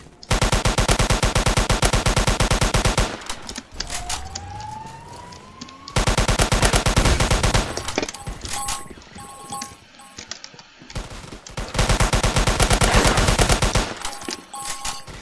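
Gunfire in the online shooter game Polyguns: long bursts of rapid automatic fire with dense repeating shots, broken by short pauses, a rising whine and electronic beeps, loud and close throughout.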